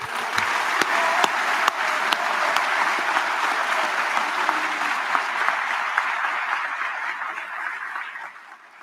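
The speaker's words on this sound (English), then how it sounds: "Team, give them a round of applause." A crowd at a U.S. Military Academy class graduation ceremony gives a dense, sustained round of applause that holds steady for several seconds, then fades out at the end.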